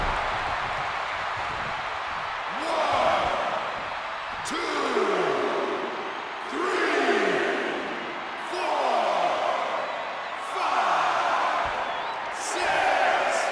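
Arena crowd in the WWE 2K24 wrestling game, a Last Man Standing match between the Undertaker and the Rock, swelling in repeated cheering waves roughly every two seconds beneath falling whooshes and impact sounds, with commentary voices over it.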